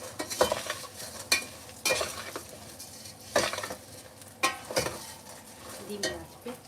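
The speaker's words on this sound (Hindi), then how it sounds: "डालें 1 पैकेट सवैयाँ। अब इसको भूनेंगे" A packet of vermicelli is roasted in a pan over low heat, with repeated scraping and clinking of a spoon against the metal pan over a light sizzle, in uneven strokes.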